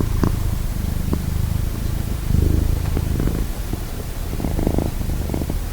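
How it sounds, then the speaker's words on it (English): A contented pet cat named Butterfly purrs close to the microphone, a low continuous rumble with soft rhythmic pulses of breath and no other sounds over it. "That's a sound of a true happy cat"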